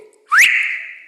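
A single clear whistle imitated by a voice, sliding sharply upward and then holding a long steady note that fades slowly, close and alone with no talk.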